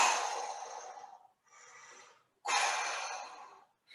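Heavy, forceful breaths from a person straining through a weight exercise using books as weights: three close, breathy exhalations, the second softer, separated by brief pauses.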